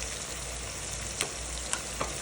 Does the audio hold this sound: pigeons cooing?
no